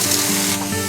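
A vortex air tool fed by a shop air compressor blows compressed air to clean dust, a loud, close, continuous rushing hiss for a brief moment.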